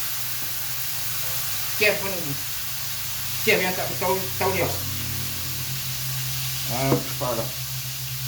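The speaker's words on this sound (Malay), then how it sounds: "Kita goreng udang dulu." Shrimp sizzle in smoking hot oil in a wok, a steady bright frying hiss running throughout while people talk over it in short bursts.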